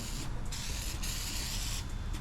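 A steady, close hiss of color-changing aerosol spray on a 1964 car during an LS engine swap, broken by a couple of brief pauses.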